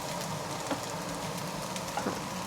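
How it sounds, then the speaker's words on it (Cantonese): Eggplant frying in a pan gives off a steady, dense sizzle and soft crackle, fairly quiet and unbroken throughout, with a couple of faint clinks. "咁茄子通常你聽到嚓嚓聲咧"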